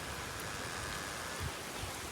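Steady rain from a two-day low-pressure storm falls in a continuous, fairly faint broadband wash with a few soft spatters and no voices.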